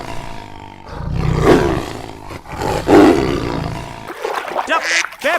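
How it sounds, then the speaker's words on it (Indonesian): White tiger roaring in two deep, drawn-out bellows close by, followed by a lighter, rougher growl at the end. "White tiger, makan putih."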